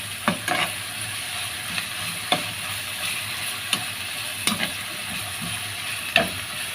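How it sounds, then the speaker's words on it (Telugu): Ginger-garlic paste and onion fry in a pan with a steady close sizzle, broken by a few sharp scraping clicks of stirring, and no voices. "ఈ అల్లం అయితే పచ్చాసన పోయినంత వరకు అయితే వేగాలండి."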